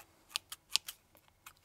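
A special pair of scissors snips hair in a quiet close-up, with about seven crisp, light clicks in a loose irregular rhythm and no talking.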